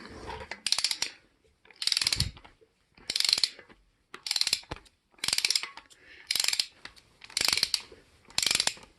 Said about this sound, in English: I'm gonna have to run them in a little bit more with the ratchet